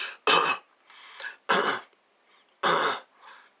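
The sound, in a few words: imitated fake cough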